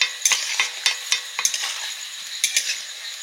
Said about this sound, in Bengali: পটাপট ভাজা হচ্ছে আর খপাখপ তোলা হচ্ছে।